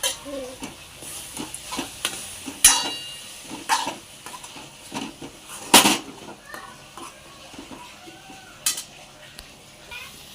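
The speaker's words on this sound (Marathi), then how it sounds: "आता आपण टाकूया कोलमी" Prawns sizzle in a pan under repeated stirring clanks and scrapes, while a person talks intermittently.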